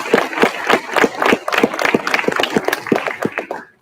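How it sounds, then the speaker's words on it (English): Nearby audience claps at a hackathon final showcase, a close, uneven patter of individual hands beating in quick rhythmic bursts that tapers off at the end. "let's give just one more big round of applause for all of the incredible teams here"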